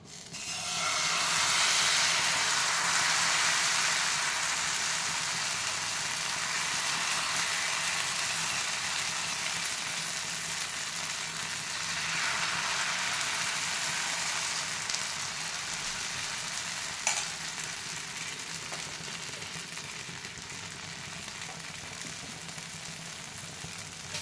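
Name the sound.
wheat flour chilla batter frying on a hot pan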